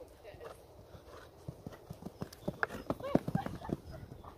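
A horse canters, its hooves clip-clopping in a quickening run of sharp beats that grows louder and nearer, while people talk quietly underneath.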